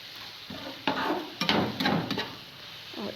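Grated carrot and sugar for carrot halwa stirred in a pan, a series of scraping, rasping strokes with soft sizzling between them, close and clear with no talk.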